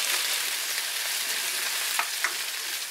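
Onion fries in hot oil for a beef stir fry, giving a steady close sizzle and hiss throughout, broken by a couple of short sharp pops or stirring clicks near the end.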